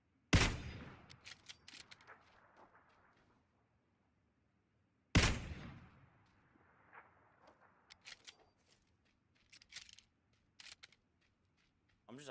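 Gunfire in a sniping video game: two sharp, loud single shots several seconds apart, each followed by mechanical clicks and clatter of the weapon being worked, with quiet gaps between.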